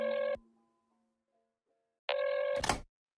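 An outgoing phone call rings on the line: two loud electronic ringback tones separated by about two seconds of near silence, the second tone ending in a brief click and crackle.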